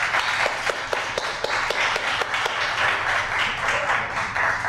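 An audience at a poetry reading in the Bayview Branch Library claps for the poet Patrick Johnson. The applause is steady and moderately loud, a room full of hands beating in a dense rhythm for several seconds.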